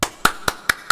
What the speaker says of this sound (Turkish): Tebrikler. Alkış.